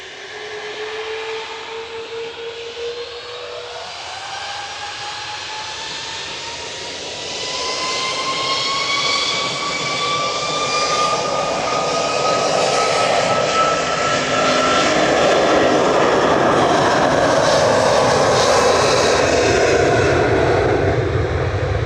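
A plane's jet engines at Manchester Airport roar loudly with a rising whine that climbs in pitch and swells steadily louder, dominating throughout with no talk.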